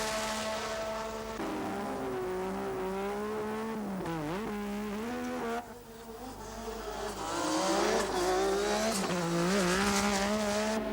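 1986 Formula 1 Grand Prix cars scream past at high revs, the engine pitch rising and falling through gear changes and shifting passes, loud and continuous with no voices.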